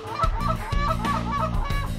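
Geese on the main river during an afternoon goose hunt honk several times in close succession, loud, near and in a rough rhythm, with no talking.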